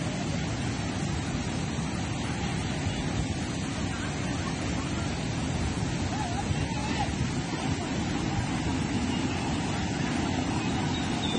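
Dam water at Kodiveri pouring over a wide weir like a waterfall, a steady dense roar of falling and rushing water that stays constant and loud throughout, with no voices.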